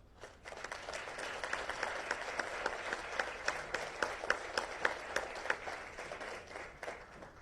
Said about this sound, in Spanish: a quienes les pido un fuerte aplauso